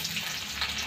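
Chopped onion with garlic cloves, cumin and mustard seeds sizzles steadily in hot oil for tomato chutney, a continuous close frying hiss with no talk.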